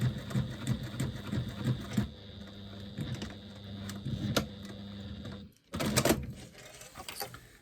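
A sewing machine top stitches around the outside of a woven bag, a close rapid mechanical whirr in bursts with a brief stop and restart, no talk.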